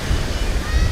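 Atlantic Ocean waves breaking on the shore at Myrtle Beach, South Carolina: a steady, loud surf wash with a low roar and some wind buffeting the microphone.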